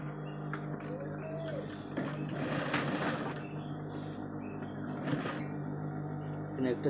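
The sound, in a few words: sewing machine stitching a cup onto a garment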